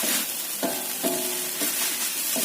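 Tofu mixture with seasoning is stirred in a pan, a steady sizzle running throughout with a few distinct scrapes of the utensil spaced about half a second apart, fairly close and with no talking.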